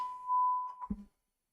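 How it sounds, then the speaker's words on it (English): A fire alarm sounds a single steady, fairly loud electronic beep lasting under a second, followed by a short low thump. No one speaks. "I have a fire alarm going off now"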